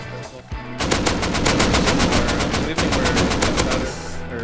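Sustained automatic rifle fire in the survival game Rust rattles out as a fast, loud, continuous stream of shots lasting several seconds. Players talk faintly underneath.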